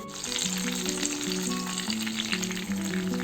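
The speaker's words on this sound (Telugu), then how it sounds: "చూస్తున్నారు కదా మనకి ఫిష్ బాగా ఫ్రై అవుతుంది." King fish (vanjaram) fries in hot oil: a dense, steady sizzle that stays loud and even throughout, close up, with music in the background and no voices.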